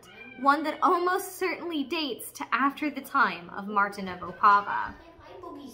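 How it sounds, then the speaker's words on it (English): A cat whines and meows in the background, faint and intermittent beneath a person speaking steadily in the foreground. "I apologize for the cat whining in the background."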